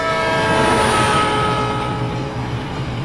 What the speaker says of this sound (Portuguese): Percebemos o efeito Doppler quando ouvimos o apito de um trem em movimento.